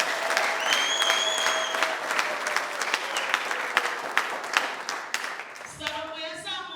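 A church congregation applauds in a sustained, dense burst of clapping, and a speaker's voice then cuts in over the fading claps near the end.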